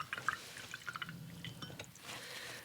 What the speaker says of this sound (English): Okay, clean off my brush.